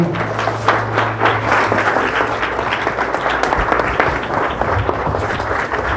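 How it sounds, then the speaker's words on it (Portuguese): A church congregation applauds during a sermon, steady and full for the whole stretch, a broad wash of many hands with a faint crowd murmur underneath. "Vamos aplaudir ao Senhor."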